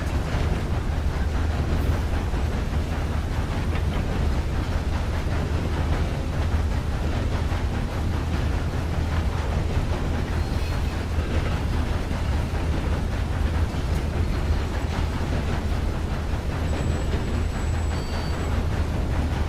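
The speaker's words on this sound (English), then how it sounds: "while we're just kind of hanging out driving this train" A constant low mechanical rumble of a train engine being driven in a video game, a broad, steady drone with faint high whine, unbroken and with no speech over it.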